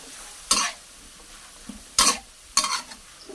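Pork, mixed vegetables, broccoli and baby corn being stir-fried in a home kitchen, three sharp scraping stir strokes over a faint sizzle, close and clear with no talking.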